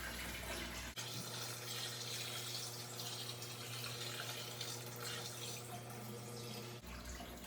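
Water pours slowly from a bucket into a fish tank, a steady splashing trickle that runs for several seconds with a low hum underneath, fading in and out at the edges.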